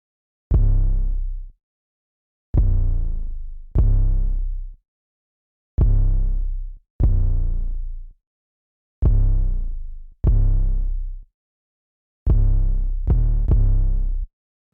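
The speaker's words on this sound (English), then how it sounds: "I'm going to show you the MIDI. The MIDI will sound like this." Sparse 808 bass pattern for a plugg beat in FL Studio: deep booming sub notes that decay over about a second each, arranged in pairs and a quick triple, alone with silence between.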